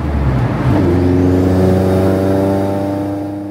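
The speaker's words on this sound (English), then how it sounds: "There will be cars coming up here very fast" Racing cars at the Brands Hatch circuit during a track day scream past at speed, a loud close engine roar that climbs and then pulls away in a long falling tone.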